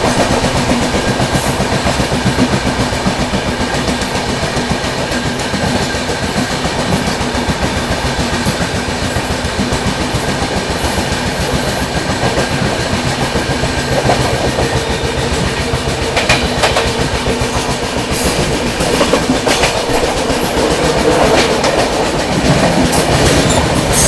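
The 22221 CR Rajdhani Express runs at speed while overtaking the Sachkhand Express, heard from inside as a steady loud rumble with rhythmic clickety-clack of wheels over rail joints and occasional faint squeals, with no voices.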